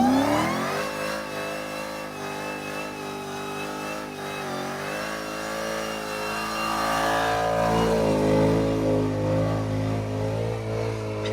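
A Nissan 350Z with a Hellcat engine swap revs under load while towing, its deep engine note climbing steadily and growing louder toward the end, close and continuous.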